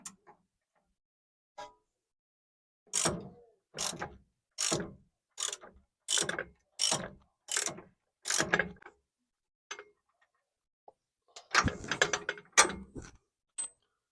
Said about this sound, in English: That nut and bolt come out.